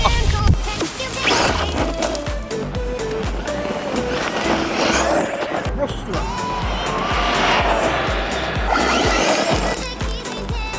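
A Traxxas Rustler 4x4 VXL brushless RC stadium truck runs hard outdoors on a fully charged LiPo pack, its high-pitched motor whining and surging with loud gravel and terrain crunching throughout, close and continuous.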